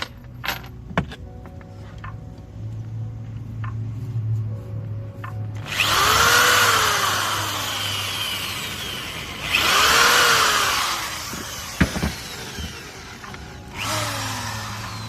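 Power drill whirring in bursts while driving screws during a van rebuild, two long strong runs with a shorter one at the end, separated by quieter pauses with light rattling and clinks.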